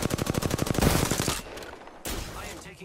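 Video game gunfire opens with a rapid, loud burst of automatic shots, then gives way to quieter scattered combat noise.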